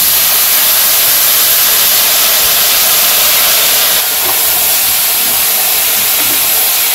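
Vegetables hit hot oil with cumin seeds in a village-style fish curry pan, giving a loud, dense, continuous sizzle that fills the whole stretch, close up with no talking over it.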